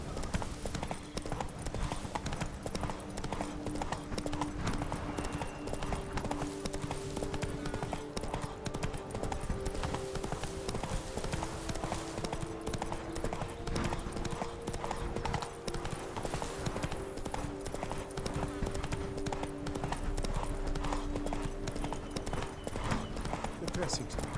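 Horse galloping in The Witcher 3: Blood and Wine, a continuous rapid clip-clop of hooves close by with a game music bed and a voice talking over it.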